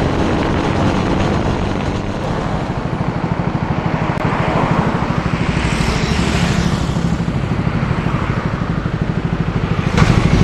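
TVS XL100 moped ridden at speed: a steady, close engine drone with heavy wind rush over the microphone throughout, no talking.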